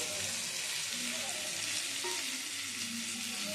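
Fried mushrooms are stirred into a ginger-garlic paste in a hot pan, producing a constant dense sizzle with soft scraping stir movements underneath.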